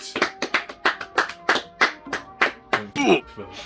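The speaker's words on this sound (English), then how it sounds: "shall we just give a round of applause to Ed Sheeran" A short burst of clapping at the close of a studio show, about a dozen distinct, fairly close hand claps in an uneven rhythm, with a voice briefly heard near the end.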